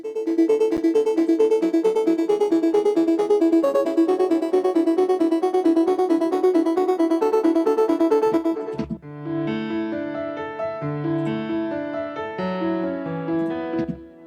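Bright synth lead from an EDM remix, playing a busy repeating pattern, then switching to a sparser melodic chord passage near the end.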